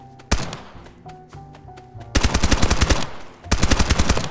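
Hip-fired MP5 or Bison submachine gun in the game Escape from Duckov: a few single shots and thuds, then two loud, close automatic bursts of rapid evenly spaced rounds with a short pause between them.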